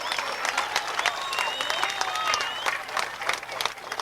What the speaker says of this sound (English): I would like you all to give them a big round of applause